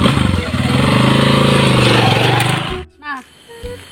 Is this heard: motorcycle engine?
yes